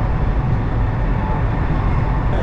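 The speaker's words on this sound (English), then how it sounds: "The train's just cruising at 240 odd kilometers an hour." Steady low rumble of a high-speed train cruising at about 240 km/h in China, a constant broadband roar with no pauses or speech.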